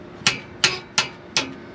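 A hammer without padding taps the engine valves of a 1968 bus in four sharp, evenly spaced metallic strikes. Each strike is close and fairly loud, with no talk over them.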